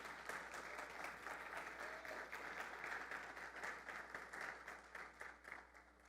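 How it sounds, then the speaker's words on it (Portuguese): A church congregation applauds in a dense, continuous wash of clapping that stays steady and fairly distant for several seconds. "Você pode aplaudir o Senhor em nome de Jesus?"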